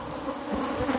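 A crowded honey bee hive hums with a dense, unbroken buzz close at hand, the swarm's drone swelling slightly for a brief moment, no voices.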